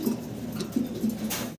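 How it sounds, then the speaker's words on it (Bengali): An uncommon fancy pigeon gives a short, low, close coo of a few soft pulses, alone with no talking. "এটা আনকমন কবুতর ভাই।"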